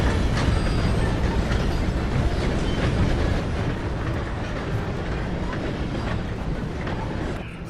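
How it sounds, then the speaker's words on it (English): Heavy train rumbling steadily past in Red Dead Redemption 2, a loud continuous roll with faint clatter throughout and no break. "Gotta beat that train"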